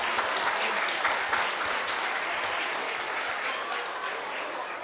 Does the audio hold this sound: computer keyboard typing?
no